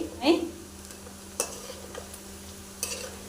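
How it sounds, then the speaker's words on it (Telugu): Mutton pieces fry in a pan until crisp for a goat-meat pickle, with a soft low sizzle under a few distinct clinks and scrapes of a spoon stirring against the pan. "ఇది క్రిస్పీగా అయ్యేంత వరకు ఇలాగే ఫ్రై చేసుకోవాలండి"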